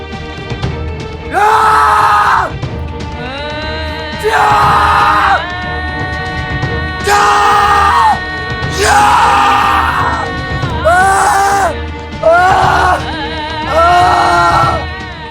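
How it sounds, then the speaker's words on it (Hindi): A man screams with full force to release pain, letting out about six long, loud, strained yells in a row, each separated by short pauses over a background of dramatic music. "चीखो कुछ इस तरह जैसे सीने के अंदर से कोई दर्द को बाहर निकालना"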